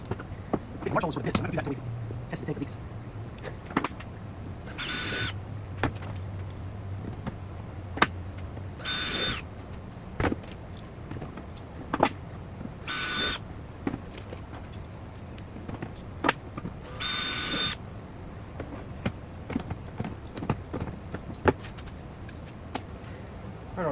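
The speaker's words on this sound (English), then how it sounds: "I'm going to drill the holes into the tank" A power drill whirs in several short, high-pitched bursts, biting into an aluminium aircraft fuel tank, with scattered clanks and handling noises between them.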